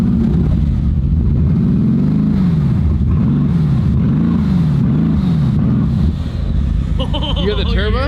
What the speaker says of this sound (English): You hear the turbos?